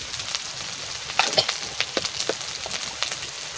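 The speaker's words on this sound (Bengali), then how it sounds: "মশলাটা প্রায় ভাজা ভাজা হয়ে গেছে" Spices fry in oil in a pan, giving a close, steady sizzle broken by scattered crackles and pops.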